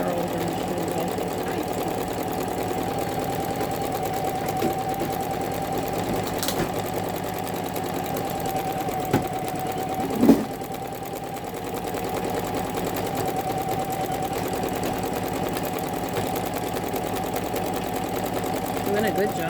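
Janome Memory Craft 10001 embroidery machine stitching a scarecrow design, a steady rapid mechanical hum with fine rhythmic clatter and one brief knock partway through.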